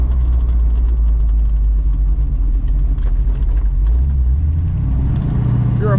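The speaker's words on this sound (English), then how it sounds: "This thing drives good." A 1970 Plymouth Cuda with a 440 engine on a drive, its deep, loud rumble steady throughout, close up, with a low engine drone and slight shifts in pitch toward the end.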